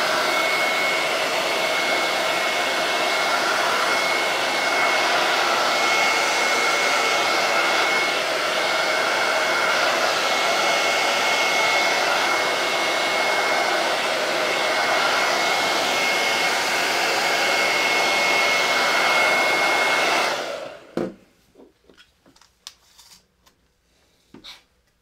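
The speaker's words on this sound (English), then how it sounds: "Once your hairdryer starts heating up too," A hair dryer blows steadily and loudly with a constant whine for about twenty seconds, used while working on wooden home decor, then cuts off, leaving scattered soft handling noises.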